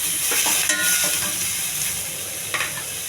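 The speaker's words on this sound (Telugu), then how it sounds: "కొద్దిగా నూనె, కరివేపాకు, ఉల్లిపాయలు, పచ్చిమిర్చి అండి కొంచెం బాగా వేగనివ్వాలి" Onions, green chillies and curry leaves frying in a little oil crackle and sizzle up close, with a few scraping stirs and a brief clink of the spoon on the pan.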